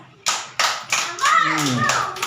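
Children clap in bursts during a classroom game, with sharp separate claps at first, then a voice speaking over the end.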